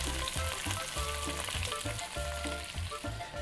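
Yellow chili pepper, bell peppers and onion sauté in a pan with a steady, close sizzle and rhythmic stirring scrapes throughout, no voices.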